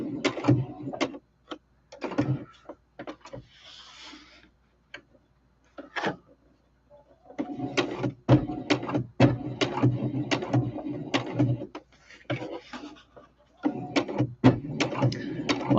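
A sewing machine running a decorative stitch in bursts, its rapid ticking needle action starting and stopping several times at close range with short pauses between runs.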